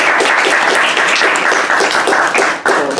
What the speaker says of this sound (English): good round of claps for all of you